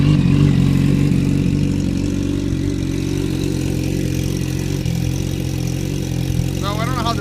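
A 2007 Yamaha R1 fitted with a Yoshimura TRC 3/4 exhaust with no packing idles close by, giving a loud, steady, deep rumble that stays even throughout.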